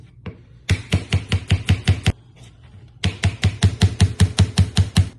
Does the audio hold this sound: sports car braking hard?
no